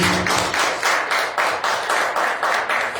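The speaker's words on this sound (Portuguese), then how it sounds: "Aplausos aí ao nosso Deus." A church congregation claps in a steady, even rhythm at the end of a service, about three claps per second, loud and close throughout.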